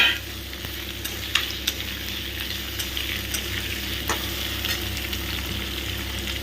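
Boiled carrots and vegetables sizzle steadily in a hot pan for chilli broccoli, a loud continuous frying hiss with occasional clacks of a spatula stirring, and no voices.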